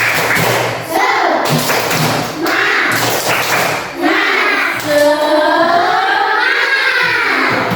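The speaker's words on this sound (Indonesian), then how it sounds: "Tepuk semangat" Schoolchildren in a classroom perform the tepuk semangat spirit clap, bursts of rhythmic thumping claps mixed with loud young voices chanting along.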